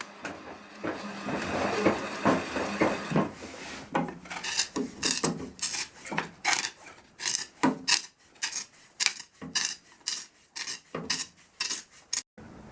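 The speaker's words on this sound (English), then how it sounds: "This tenon shave makes this very easy and would work even if you didn't have a lathe." A tenon shave cuts a tenon on the leg of a low oak-log workbench, making repeated rasping strokes that become sharp, evenly spaced scrapes in the second half, close and loud, with no talking.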